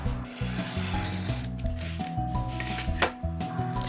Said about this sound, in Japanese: で今度この幅8ミリで切ります。